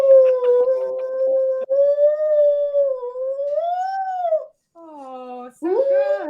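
Brody the dog howls in long, wavering, rising-and-falling notes close to the microphone, breaking off briefly and then resuming with shorter yelping howls.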